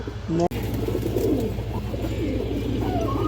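A pair of Chila pigeons coos in low, repeated murmurs, close and fairly steady, with a brief break in the sound near the start.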